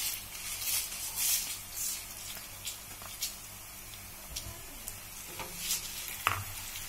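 Dried red chillies, about thirty of them, frying and being stirred in a pan for a simple chicken dish, giving a steady soft sizzle broken by repeated scraping stirs close by, with no talking.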